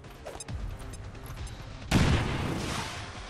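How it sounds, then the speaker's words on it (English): In the XCOM 2 video game, a thrown grenade goes off with a sudden loud, booming blast. Faint clicks and shuffling come first, then the crashing explosion tails off into rumbling debris. "Let's try to throw a grenade."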